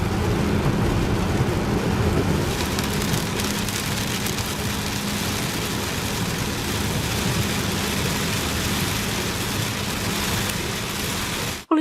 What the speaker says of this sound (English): We're back in Wales again, and of course it's raining.